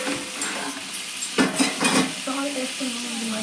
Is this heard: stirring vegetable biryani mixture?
yes